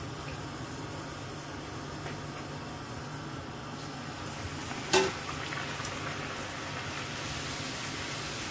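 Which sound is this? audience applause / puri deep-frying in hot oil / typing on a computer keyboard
puri deep-frying in hot oil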